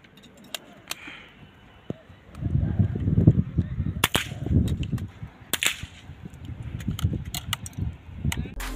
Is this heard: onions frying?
no